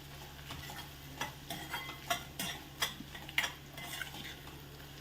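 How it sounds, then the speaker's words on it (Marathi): Onion for egg bhurji sautés in a pan, a spatula scraping and stirring in a quick repeated rhythm over a soft sizzle. "कांदा चांगला गुलाबीसर परतून झालेला आहे."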